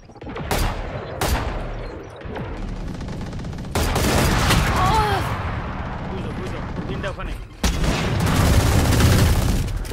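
Grenade blasts and rapid gunfire in a Valorant ranked match ring out as loud, dense bursts and booms through most of the stretch, with sharp onsets near the start and a heavy burst late on, while players talk over the action.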